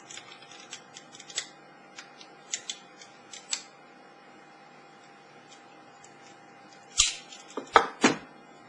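Small metallic ticks and clicks of a screwdriver tightening a screw on a homemade pick gun made from a feeler gauge, faint and irregular at first, then a few louder close scrapes and clacks near the end.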